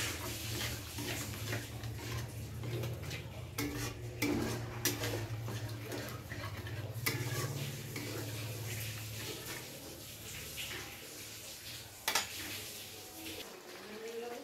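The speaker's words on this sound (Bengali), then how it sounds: "টক দই দেওয়ার পরে খুব ভালো করে মিশিয়ে নিয়ে" Katla fish curry with fennel being stirred after sour yogurt and a little sugar go in, a spoon scraping and clinking against the pot in irregular knocks over a low simmering hum, with no talking.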